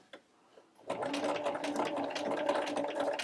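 Sewing machine top-stitching a tiny doll collar, a faint tap before the motor starts, then a steady close whirring run of rapid stitching that continues to the end.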